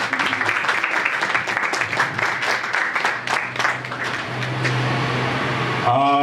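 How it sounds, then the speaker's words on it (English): An audience at a book launch claps for a few seconds, a thin scattering of hands under a steady hum, fading as a low tone takes over and a voice starts at the end. "Let's get a little round of applause for everybody involved."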